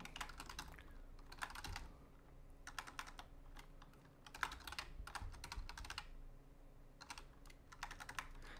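Bursts of computer keyboard keystrokes, close and fairly quiet, typing object names for a GDevelop game in quick clusters separated by short pauses, with no talking.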